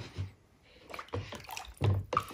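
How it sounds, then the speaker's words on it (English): A warm steel axe head is quenched in water, giving brief splashy bursts and sloshing that come and go in short pulses, close by and fairly quiet. "I'll take this and quench it in the water"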